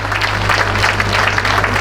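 Loud crowd applause for cyclists at a Tour de France podium, a dense steady roar of clapping over a low constant hum, brief and unbroken.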